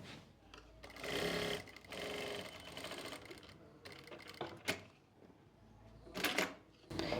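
A sewing machine stitches pocket fabric onto trousers in quick bursts, its rapid needle chatter starting and stopping between short pauses, close and clear with brief clicks.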